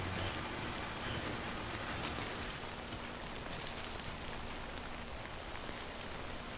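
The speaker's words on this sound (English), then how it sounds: "Oh, it's like full on raining now." Heavy rain falls steadily in Death Stranding, a dense, loud, unbroken hiss of downpour with no pauses and no voices.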